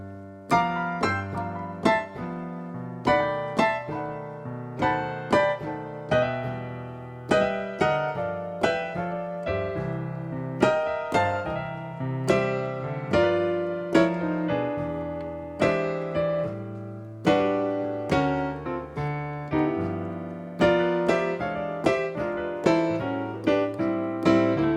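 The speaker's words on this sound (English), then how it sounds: "First is what I call tight gospel chords." Piano improvising in a gospel style with tight, close-voiced chords, a steady flow of rhythmic chord stabs and melodic runs over moving bass notes, played solo at moderate volume with no talking.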